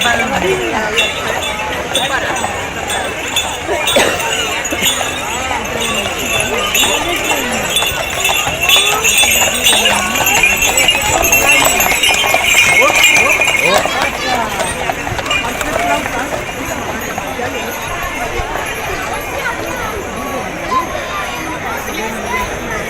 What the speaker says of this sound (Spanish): Estos no son caballos, son burros.